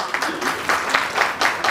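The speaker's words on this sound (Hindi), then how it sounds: "एक बार समस्त महिलाओं के लिए जोरदार तालियां।" Applause from an audience at a women's honour ceremony in Garhwal Bhavan, rhythmic group clapping in fairly even beats, moderately loud and close, with no voices over it.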